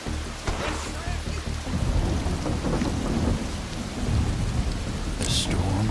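A thunderstorm with steady heavy rain in the Western game Desperados 3, loud and continuous, with deep rumbling thunder rolling underneath the hiss of rainfall throughout.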